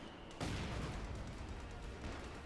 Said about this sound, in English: Jove following up with mortar or artillery support of his own.